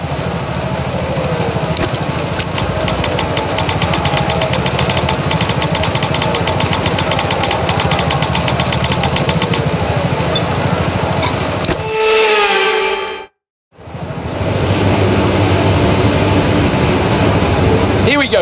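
Formula 1 racing car engines in the F1 25 video game, during a wet formation lap at the Miami Grand Prix. A steady, loud mechanical drone runs throughout with a brief dropout near the end, and voices talk over it.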